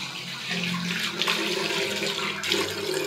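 Steady rush of water pouring from a tap, continuous and fairly close, with no voices over it.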